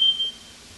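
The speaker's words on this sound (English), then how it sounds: "Set the fire alarm off." A smoke alarm sets off a high, steady electronic beep that sounds loudly at first, then fades and trails off quietly over less than a second, with a faint low room rumble underneath.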